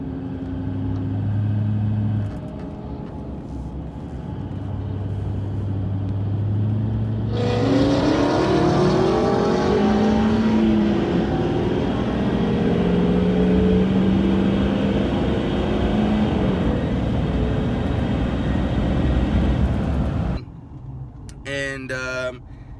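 A manual 900+ whp Dodge Hellcat drag races a Kenny Bell-supercharged 800 whp six-speed Terminator Cobra; a broad, loud engine roar builds suddenly and holds strong for several seconds before cutting off.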